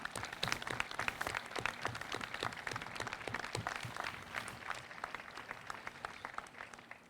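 Quiet but clear audience applause at a hotel beam signing ceremony, many hands clapping in a steady patter for several seconds before tapering slightly.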